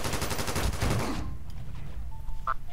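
Heavy machine gun fire in the video game BRINK, a loud rapid continuous burst of shots that cuts off abruptly, followed by quieter game sounds and a short tone.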